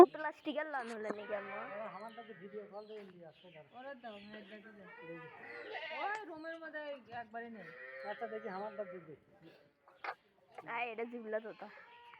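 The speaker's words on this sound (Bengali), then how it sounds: "আর এইদিকে দেখুন, কিছু ছাগল ঘোরাঘুরি করছে। এই খামারে অনেকগুলো ছাগলই আছে।" Goats on a farm bleat repeatedly in wavering, nasal calls, several overlapping animals at close range, with short pauses between bursts.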